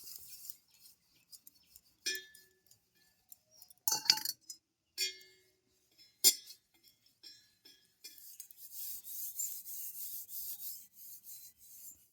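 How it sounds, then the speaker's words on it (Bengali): A wire mesh scrubber rasps over a wet brass utensil in short, close scraping strokes with scattered light metallic clinks, then a steadier stretch of continuous rubbing near the end, all quiet with no talk. "রংটা তারের জালি দিয়ে একটু এটাকে ঘষে নিলেই কিন্তু খুব সুন্দরভাবে পরিষ্কার হয়ে যাবে"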